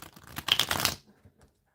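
A tarot card deck being shuffled, its cards locked together, gives a brief burst of riffling, papery clicks lasting about a second, close and fairly quiet, followed by near silence with a few soft rustles.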